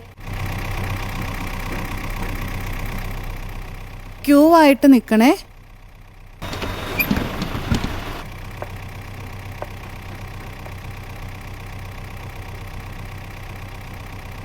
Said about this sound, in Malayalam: ദേ വണ്ടി വരുന്നല്ലോ